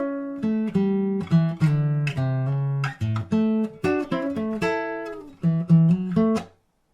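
A plucked fingerstyle blues guitar plays a melodic phrase of single notes and short double stops, clear and close, with no voice, ending after about six seconds.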